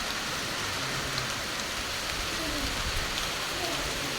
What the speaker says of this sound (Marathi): इकडे पण पाऊस चालू झाडांवरतून पाणी आहे मस्त